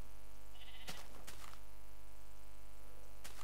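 Sheep in the video game Minecraft bleating, two short sharp bleats close together near the start and a third after a pause, over a quiet steady hum.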